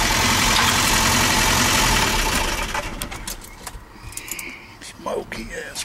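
A Mazda B2200 engine idles loud and rough for about three seconds, then cuts off, leaving faint outdoor noise with birds and someone talking nearby.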